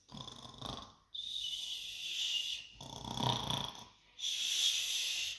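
A voice imitates snoring: three long, raspy, hissing snores separated by short pauses, close and fairly loud.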